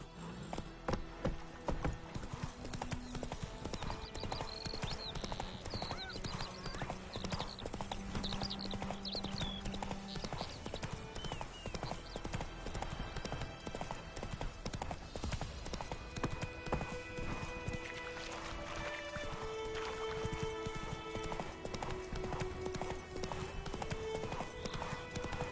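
A horse trots with a steady, continuous clip-clop of hooves throughout, fairly close and prominent, with other sounds layered over it.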